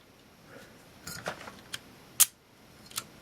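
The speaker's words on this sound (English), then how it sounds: "we're going to check the different shutter speeds here. I'm going to set this at 1/500th first" A Voigtlander Vitomatic IIa camera shutter set to 1/500th fires with a crisp, quiet mechanical click among a few soft handling clicks, close up in an otherwise quiet room.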